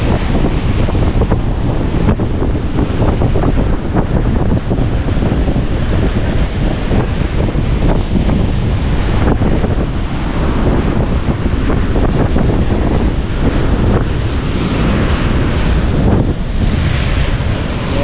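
Strong wind buffets the microphone with a constant loud roar, mixed with surf washing in the background, steady throughout with no voices.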